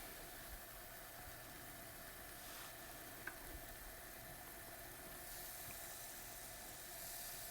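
Liver curry cooking in a pan gives a steady, soft frying sizzle throughout, with a faint clink partway, fairly quiet and uninterrupted.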